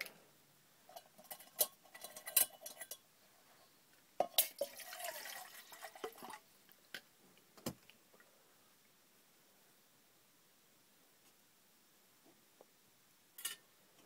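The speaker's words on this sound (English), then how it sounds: "I'll go ahead and put some water in there." Water poured into a pot resting on a small lit camping stove, a few seconds of splashing and clinking metal followed by faint drips and quiet.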